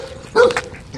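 A big dog lets out one loud nearby bark over low outdoor background noise, a single sharp burst standing alone.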